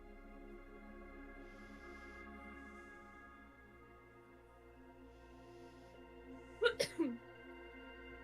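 One short, sharp sneeze bursts out near the end of a quiet stretch with a soft background hum. Nobody talks around it.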